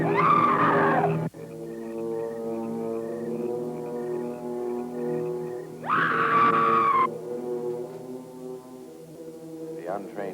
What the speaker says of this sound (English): To the untrained mind, it is the scream of the white ghost.